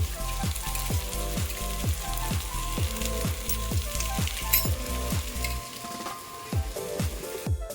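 Rice drops into a pan of fried onions and sizzles loudly and steadily, with a rapid, regular series of scraping stirs running through the hiss before it softens briefly near the end.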